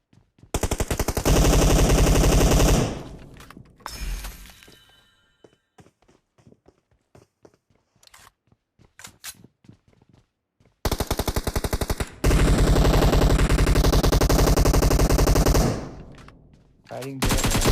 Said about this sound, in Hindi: फायरिंग दे रहा है।